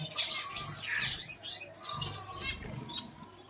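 Small birds including a long-tail, a zebra jumbo male and a purple-breasted female chirp and tweet in a small home bird house, quick high chirps in bursts, fairly faint and close, with some light rustling.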